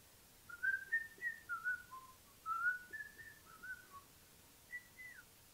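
A person whistles a short, wandering tune in quiet phrases, soft and fairly close, with brief pauses between runs of notes.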